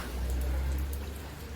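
Steady rainwater falling and collecting at a home, a continuous low rushing patter with no voices.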